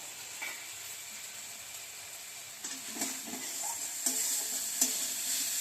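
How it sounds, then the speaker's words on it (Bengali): Spice paste of mustard and poppy seed sizzles in hot oil for a pomfret fish curry, a steady frying hiss with intermittent stirring scrapes and clinks close by. "এবার মশলাটা একটু কষু আর একটু কষিয়ে তেলটা ছেড়ে যাবে"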